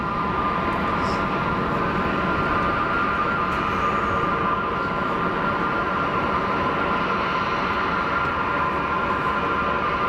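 An Airbus A321neo with a large SATCOM blister passes at Geneva Airport, giving a steady, broad jet roar with a faint whine that holds loud and even throughout, and no talk.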